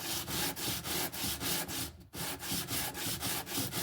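Plaster pieces of a decorative vase are sanded by hand, producing a rhythmic series of close, scratchy rubbing strokes at a steady pace, with one brief pause midway.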